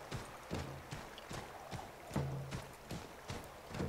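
Horse hooves clip-clop in a steady walking rhythm in Assassin's Creed 3, close and moderately quiet, with several evenly spaced hoof strikes and faint low background tones.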